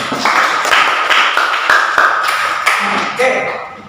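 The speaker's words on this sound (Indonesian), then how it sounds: "Kita beri aplaus untuk kita semua." Students in a classroom clap together in a sustained burst of applause, a dense patter of many hands close by that fades slightly toward the end.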